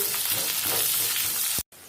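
Onions sizzling in mustard oil in a pan, a dense continuous frying hiss with some stirring scrapes, no voices, cutting off abruptly near the end before a fainter hiss resumes.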